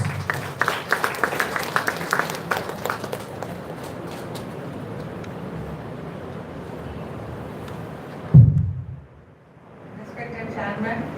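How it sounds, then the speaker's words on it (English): Audience applause welcoming the guest of honor at a college event in an engineering college hall, a dense, steady wash of clapping from a large crowd that fades after several seconds before a voice resumes speaking. "with a big round of applause."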